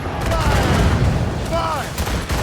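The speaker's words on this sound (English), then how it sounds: "Enemies firing! Taking damage here!" Enemy ship cannon fire in a naval battle in Assassin's Creed Rogue, a dense rumbling barrage of booms and crackling shots under shouting crew voices, loud and continuous.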